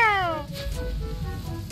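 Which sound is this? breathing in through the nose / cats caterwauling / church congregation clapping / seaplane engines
cats caterwauling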